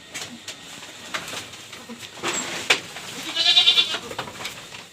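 Goats in a pen bleat close by, with a drawn-out wavering bleat rising over shuffling and rustling, and faint bird calls in the background.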